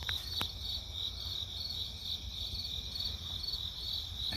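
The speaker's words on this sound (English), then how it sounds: "You can hear the crickets playing their tune." Crickets chirp before dawn outside a front porch in a continuous, high, steady trill, faint and even, with no voices.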